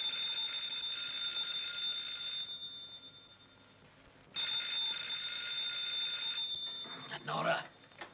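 A telephone rings at night indoors in a house, a bright, steady electric bell ring that stops briefly midway and then resumes, with a faint voice near the end.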